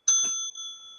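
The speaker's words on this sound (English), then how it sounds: "There's somebody ringing the doorbell at the back of the studio here." A single doorbell chime rings out clearly at the back of a studio, a bright struck ding whose tone rings on and slowly fades over about a second, with no talking.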